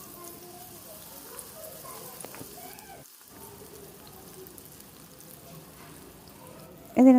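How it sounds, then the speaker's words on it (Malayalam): Soybean chunks sizzling in hot sunflower oil for soya 65, a soft steady crackle and hiss throughout, with a short sharp clatter near the end. "ഇതിന് നമുക്ക് കുറച്ച് നേരം ഒന്ന് ഫ്രൈ ചെയ്തെടുക്കാം"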